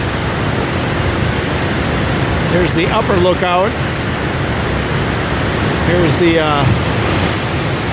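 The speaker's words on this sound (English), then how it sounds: "waterfalls going over the edge here." Brasstown Falls in Georgia pours over a ledge as a steady, broad rush of water, constant and fairly loud throughout, with a person talking briefly over it twice.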